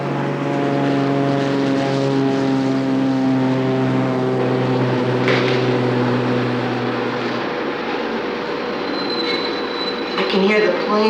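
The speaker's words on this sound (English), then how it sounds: "I can hear the planes sometimes." A loud, steady propeller airplane drone fills the scene, deep and continuous, with a few faint clicks and knocks near the end.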